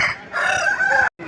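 A rooster crows loudly and close at a Sunday poultry market in Pileru, one drawn-out crow that stops abruptly before a brief restart.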